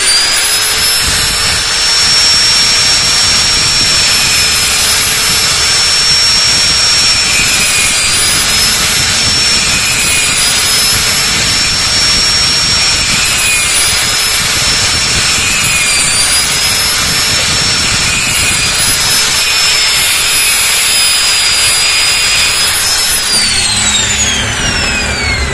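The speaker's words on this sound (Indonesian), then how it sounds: "Jadi ini kita gerinda nih." An angle grinder grinds a hard part during repair of a Miyako 18-inch electric fan, a loud steady high-pitched whine running continuously for about 23 seconds before winding down near the end.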